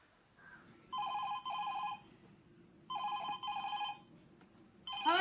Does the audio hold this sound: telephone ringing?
yes